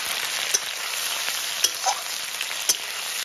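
Chicken pieces sizzle in a pan with fried onion, chili and five-spice seeds, a steady bright hiss broken by a few sharp clicks and light stirring taps.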